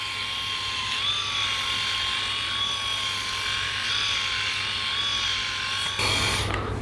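Philips i9000 electric shaver running over a chin, a steady close motor whine and buzz that holds a constant pitch for several seconds, then a brief rasp near the end, no talking.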